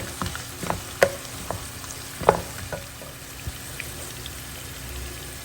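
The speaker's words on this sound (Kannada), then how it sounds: "ಈರುಳ್ಳಿ ಸ್ವಲ್ಪ ಕಲರ್ ಚೇಂಜ್ ಆಗುವವರೆಗೆ ನಾವು ಇದನ್ನು ಹುರ್ಕೋಬೇಕು" Onions fry in oil with chopped greens in a pan, a soft steady sizzle broken by sporadic sharp crackles and pops, close and fairly quiet, no talking.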